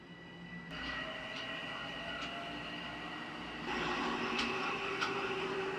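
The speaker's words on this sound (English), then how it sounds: "I'm gonna let this train pass." A big train rolls past nearby, its steady rumble and rattling wagons holding throughout and swelling louder toward the end, with periodic clacks from the wheels.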